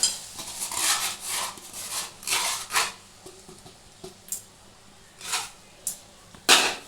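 A spoon scrapes and clinks around a metal pan while milk powder is mixed into a little water, a series of close, uneven strokes with short pauses between them and no talking.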